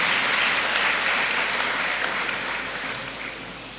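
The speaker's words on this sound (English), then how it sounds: "Please let's give him a round of applause." Sustained applause from a lecture audience, dense steady clapping that fades slightly toward the end.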